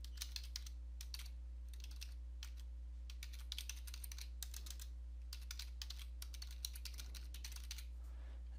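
Computer keyboard typing an email address: bursts of quick, light key clicks come in clusters with short pauses, close and fairly faint over a steady low electrical hum.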